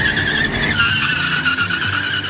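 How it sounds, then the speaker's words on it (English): Car tires squeal in a studio recording made for sound effects, a sustained high screech over a low engine rumble throughout. "Made the tires squeal."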